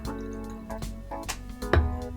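Weller Special Reserve bourbon pours from the bottle into a glass, a short burbling trickle with a few gurgles and a soft splash near the end, close and fairly quiet.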